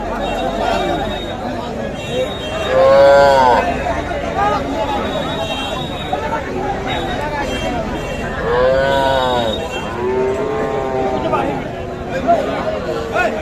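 Young Sahiwal calves at a busy cattle market give two drawn-out, wavering moos a few seconds apart, over a constant hubbub of crowd chatter and nearby voices.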